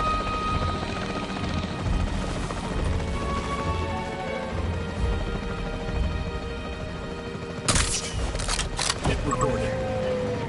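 The capture team helicopter in Jurassic World Evolution drones with a steady rotor rumble, close and continuous, with a brief burst of clattering near the end.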